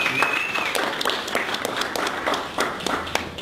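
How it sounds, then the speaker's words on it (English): A round of applause from a seminar audience at a professional meeting, a dense patter of many hands clapping steadily at close range for several seconds, with faint voices mixed in. "let's give them a round of applause"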